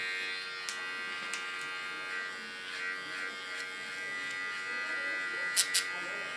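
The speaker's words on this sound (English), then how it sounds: "Clean the contour line with my clipper." Electric hair clipper trimming and rounding the contour line behind the ear on ultra short platinum blonde hair, a steady faint buzz with a few small clicks and light touches, close up.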